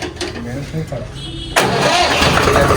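A 4WD John Deere tractor's engine, left unused for some time, cranks in short efforts, then catches about halfway through and runs on at a loud, steady idle; voices are heard near the start.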